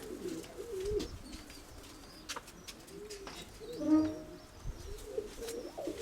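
Pigeons coo in soft, repeated rolling calls at a moderate distance, with a few faint chirps and quiet background rustle between them.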